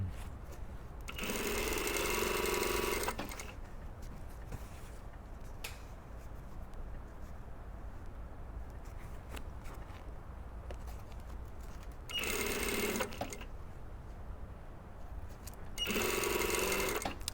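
A sewing machine stitches a French bind onto the top edge of a boned panel bustier, running in three short bursts separated by a long quiet pause.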